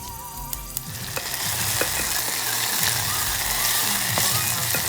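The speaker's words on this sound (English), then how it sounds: "we're gonna add in our onions and garlic that we just finely minced" Finely minced onions and garlic dropped into hot thyme-flavored oil, first faint clinks and scrapes, then a strong, continuous close sizzle rising and holding, with occasional utensil knocks against the pan.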